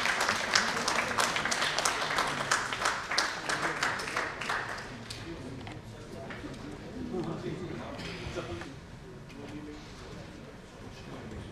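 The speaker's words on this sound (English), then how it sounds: "Big applause, please" Brisk clapping from a conference audience honors a veterinarian receiving a lifetime achievement award. It is strongest in the first few seconds, then thins out beneath a speaking voice and background chatter.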